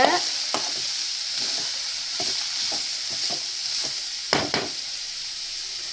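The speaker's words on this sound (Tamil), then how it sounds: "மஞ்சள் போட்டாச்சு, அதை நல்லா கிண்டி விட்டுக்கோங்க." Sliced beetroot fries with turmeric in a pan for a Tamil-style poriyal, a steady sizzle under repeated scraping strokes of a spatula, two louder scrapes near the end, with no talk.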